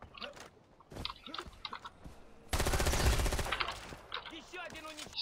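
A loud burst of automatic gunfire from Far Cry 4 multiplayer lasts about a second and a half, set among quieter game sounds and scattered clicks and chirps.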